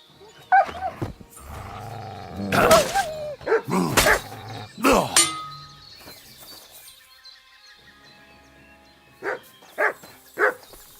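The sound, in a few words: dog barking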